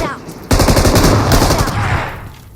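Rapid gunfire bursts from a shotgun in a video game, loud and sustained for about two seconds, starting abruptly and fading at the end.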